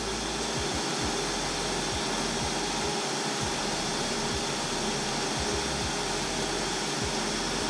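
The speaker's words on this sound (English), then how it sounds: "trying to show you guys what really happens with some of these robot vacuums" A Neato D8 robot vacuum cleaner running close by, a steady, even broadband whir and hum that holds constant throughout with no pauses or talking.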